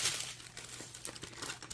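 Thin plastic bag crinkling and rustling as a Leisure Arts diamond painting canvas from Hobby Lobby is unpacked, a close run of irregular crackles and soft scrunches without any talk.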